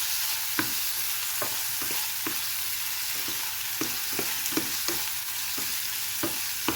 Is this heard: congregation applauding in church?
no